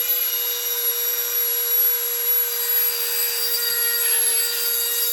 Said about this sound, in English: Yep, you gotta love a Dremel.